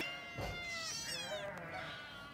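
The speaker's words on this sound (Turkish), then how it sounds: "Bunlar da Hatoş'umun kedileri" Several cats meow in a home kitchen, their drawn-out cries rising and falling close by over faint household background noise.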